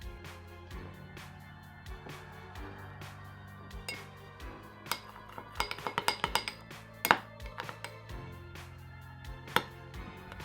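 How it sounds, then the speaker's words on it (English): Corn syrup and drops of red food coloring stirred together in a bowl, a spoon clinking and tapping against the dish in an irregular run of close, bright ticks with a brief busier flurry midway. "Then add in some drops of red food coloring and mix."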